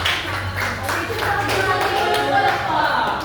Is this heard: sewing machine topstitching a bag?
no